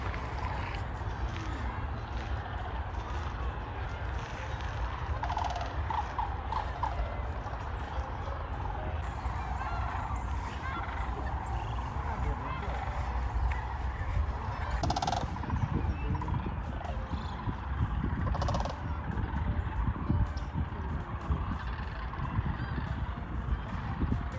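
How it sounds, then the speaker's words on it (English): Geese and other waterbirds at Wheeler Wildlife Refuge in Alabama give a steady, overlapping chorus of honks and calls that keeps going throughout, with a constant outdoor background and no clear talk. "People are trying to watch the birds."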